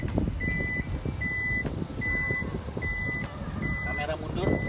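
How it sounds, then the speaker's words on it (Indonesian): A Toyota Alphard's power tailgate closes on its own, sounding a steady series of evenly spaced, fairly loud electronic beeps over a low background rumble. "Di sini kalau mau tutup bagasi tinggal pencet di sini. Dia akan otomatis menutup sendiri."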